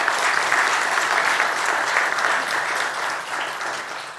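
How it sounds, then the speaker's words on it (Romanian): An audience at the opening ceremony of a hospital's medical days claps for a professor: a continuous, even roll of many hands, loud and close, lasting the whole stretch. "vă rog aplauze pentru domnul profesor"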